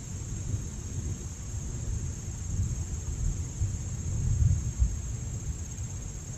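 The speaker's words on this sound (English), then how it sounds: "Hear the thunder in the background again." Low, distant rumbling of thunder rolls beneath a steady hiss of outdoor noise at Iroquois Park on a Monday morning, swelling slightly near the end.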